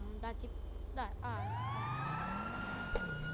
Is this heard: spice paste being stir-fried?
no